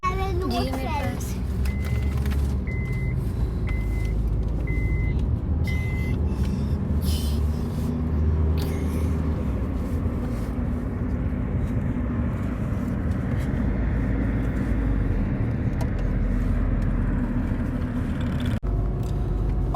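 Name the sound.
inside a moving car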